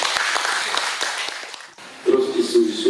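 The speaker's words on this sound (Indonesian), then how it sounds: "Tepuk tangan di sana" A crowd applauds in a regional parliament hall, dense clapping that is cut off abruptly, followed by a voice speaking.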